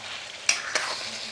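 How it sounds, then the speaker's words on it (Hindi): Sparrow meat frying in oil in a kadai, a steady close sizzle broken by two sharp stirring scrapes. "ये मेरे चिड़े भुने जा रहे हैं"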